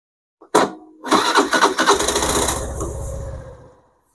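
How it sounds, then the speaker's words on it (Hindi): A Suzuki Access 125 BS6 scooter is started after an engine oil change: a short click, then the starter cranks briefly and the engine catches, settling into a steady idle close by. "तो गाड़ी को ऑन करते हैं अभी।"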